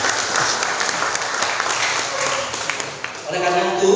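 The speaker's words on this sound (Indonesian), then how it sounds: "Tepuk tangan untuk kita semua." Audience applause in a hall at a naming ceremony for a newly built hall, dense steady clapping across the whole stretch, with a voice starting to speak near the end.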